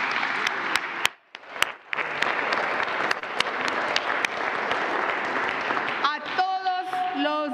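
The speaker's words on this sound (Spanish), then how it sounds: "así que un aplauso, por favor" An audience at a formal government ceremony gives sustained, dense applause that fills the room and continues for several seconds, with sharp individual claps standing out. A brief dip comes early, and a voice begins speaking near the end.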